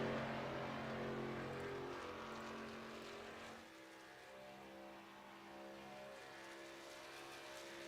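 Racing truck engine from the Doghouse Racing League truck series in iRacing, a steady loud motor drone that drops in pitch and level midway as the truck runs by on a qualifying lap, with no voices.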